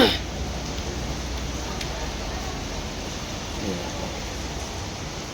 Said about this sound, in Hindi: क्योंकि बारिश हो रही है